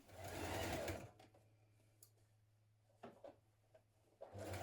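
A sewing machine runs in a quick close burst while stitching the hem of a Style Arc Josie hoodie, then falls quiet with light handling clicks before it whirs again at the end.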